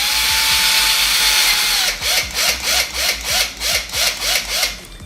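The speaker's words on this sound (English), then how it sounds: "begin to drill through the hole on the adhesive mount through the monopod" A power drill boring through an aluminum monopod and an adhesive mount: a steady high whine that drops into rhythmic grinding pulses as the bit bites. It is close and loud, with no talk.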